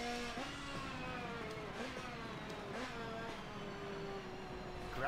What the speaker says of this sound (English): Oh, this engine power of the Nissan.